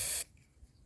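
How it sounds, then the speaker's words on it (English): A short, loud hiss of electrical cleaner sprayed from an aerosol can onto car horn terminals on a Morris Minor, cutting off abruptly after a quarter second and leaving near silence. "I'm going to give those terminals a good old spray of"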